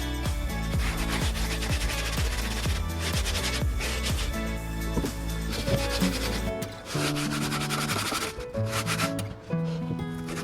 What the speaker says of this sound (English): I then just sanded the edge down just to make sure it was a nice smooth curve.